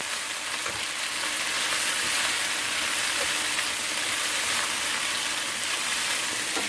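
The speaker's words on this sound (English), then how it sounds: "Meanwhile, we'll let this fry up" Meat sizzling and frying steadily in a pan for Thai radna noodles, a dense, even hiss that stays loud and close without any break or talking.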